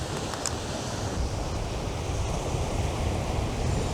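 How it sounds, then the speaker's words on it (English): A strong headwind roars steadily past the microphone while a Tip Tornado Graphex Super Match fishing rod is cast, with a constant, unbroken rushing sound and no voices. "I'm going against a headstrong wind"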